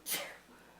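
A single short sneeze, fairly faint and a little distant, fading quickly into quiet room tone.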